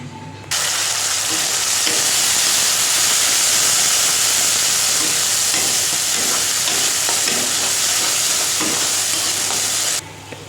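Spice paste fries in hot mustard oil with cumin, a loud, dense sizzle and hiss starting abruptly, holding steady with stirring scrapes, then cutting off near the end.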